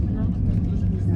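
Road traffic rumbles steadily as cars pass by, a continuous low vehicle drone under a child's chatter.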